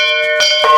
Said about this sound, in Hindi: जब ये घंटा बजाया जाता है